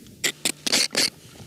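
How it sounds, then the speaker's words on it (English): A few short, gritty scraping strokes of sand being scraped off bread in the desert, four quick bursts in a row close up, then quiet. "That's the sound of sand being scraped off my lunch."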